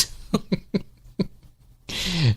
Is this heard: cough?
yes